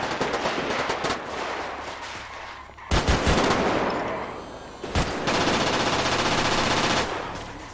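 Rapid automatic gunfire in a GTA 5 roleplay street shootout, riders off a bike opening fire; loud sustained bursts with sharp louder shots near three and five seconds, no talk.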